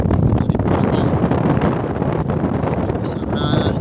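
Strong wind blows across an open bridge construction site at a port, a steady loud roar of buffeting gusts on the microphone throughout.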